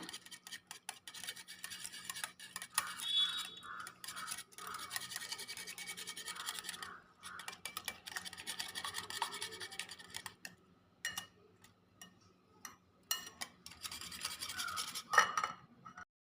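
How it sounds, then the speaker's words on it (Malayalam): Eggs and cream beaten briskly in a bowl for a bread omelette, a steady scratchy whisking with rapid rubbing strokes that pause briefly now and then, close and moderately loud with no talking. "ക്രീം ചേർത്ത് കൊടുത്തിട്ട് നമുക്ക് നന്നായിട്ടൊന്ന് ബീറ്റ് ചെയ്തെടുക്കണം."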